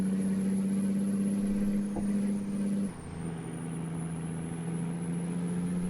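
In American Truck Simulator, a truck engine strains up an incline on the Dalton Highway, a loud, steady low diesel hum held at high revs that drops briefly in pitch midway, with no talking.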